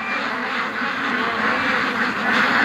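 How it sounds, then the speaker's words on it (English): Ducks being raised on a farm quack steadily in a dense, overlapping chorus, loud and close, with the calls running continuously and no talk. "The ducks don't know what to do."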